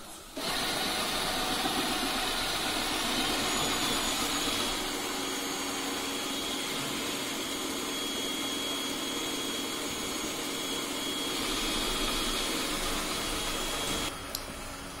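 A Yeedi Vac 2 Pro robot vacuum cleaner running at suction speed 3 of 4, a steady whirring motor drone with a high-pitched hiss, close and constant for the whole stretch, briefly cutting off near the end.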